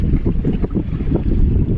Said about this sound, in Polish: Na pożegnanie, dosłownie na ostatnie metry przyszło jeszcze odrobinę wiatru.